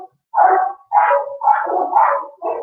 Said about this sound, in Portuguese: lá embaixo tem muito cachorro na vizinhança ali embaixo